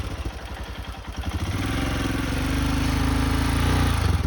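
A motorcycle engine chugs unevenly at first, then swells into a louder, steady buzzing drone as the throttle opens. It sounds close and continuous, with no talking over it.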